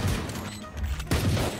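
Gunfire in the video game Valorant, a loud rapid burst of shots, a brief pause, then another burst up close.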